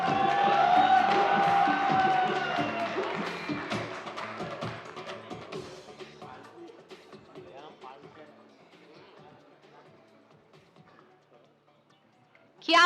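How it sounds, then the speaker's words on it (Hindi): Applause and cheering greet Kanti Joshi on stage at a press conference for the Taarak Mehta Ka Ooltah Chashmah 17-year celebration: a crowd claps loudly at first, then gradually fades to scattered claps, and a sudden loud burst comes at the end. "कांति जोशी जी का स्वागत कीजिए जोरदार तालियों से"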